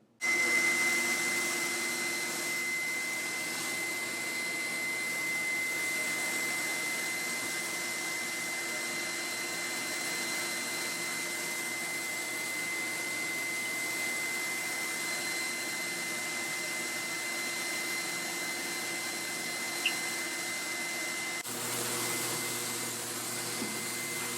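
A spray gun lays passes of Plasti Dip mixed with Glossifier and Matte Clear onto a car for a two-colour fade, a continuous loud hissing air rush with steady tones, holding evenly throughout with a slight change near the end.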